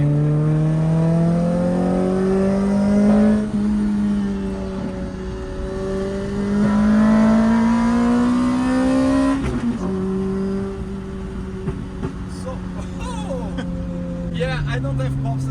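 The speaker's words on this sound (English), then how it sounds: "the car crackles a lot" Car engine revving on a canyon road, its pitch rising and falling through gear changes with crackles, loud and close inside the cabin while people talk over it.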